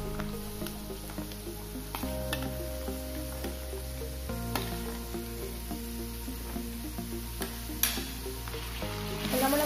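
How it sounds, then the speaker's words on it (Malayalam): Papaya pieces sautéed in a pan for pickle, a steady sizzle and frying hiss with scraping stirring strokes, close and continuous, with no talking. "നന്നായിട്ടൊന്ന് വഴക്കിയെടുക്കാം."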